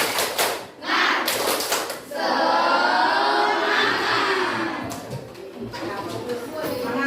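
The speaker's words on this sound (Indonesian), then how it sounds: "kita akan mengadakan tepuk semangat" Children chant together in a classroom while bursts of group clapping and rapid tapping come in, loud and close, rising and falling in a rhythmic pattern.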